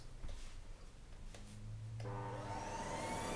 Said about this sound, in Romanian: Hai, dă-i drumul, dă-i drumul, dă-i drumul la aspirator.